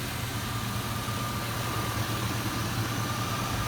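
A 2000 Chevrolet Silverado Stepside 4x4 engine idles steadily at close range, a constant low rumble with faint ticking belt-train noise layered on top and no talking.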